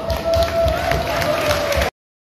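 Applause for the judges at a Miss Teen Philippines pageant: a crowd's sustained clapping mixed with a steady tone and a murmur of voices, continuous for about two seconds before stopping abruptly.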